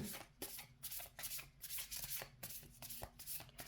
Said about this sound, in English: seeing the shuffling on camera